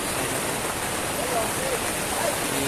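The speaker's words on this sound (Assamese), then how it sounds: "খুব জোৰে বৰষুণ দিছে" Dense, continuous hiss of heavy rain falling, steady and close.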